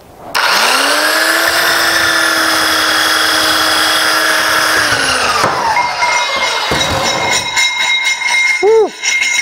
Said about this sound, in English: I'm going to hit it with this 220 grit on the belt sander